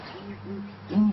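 Low, hollow territorial booming calls of southern ground hornbills, a few deep hoots spaced apart, the last one louder and closer, over quiet background.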